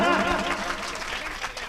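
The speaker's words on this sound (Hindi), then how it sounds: "जोरदार एक बार तालियां बजा ढंग से" Audience at a Hindi comic poetry gathering clapping steadily in a dense, continuous wash of applause, with a voice over it at the start.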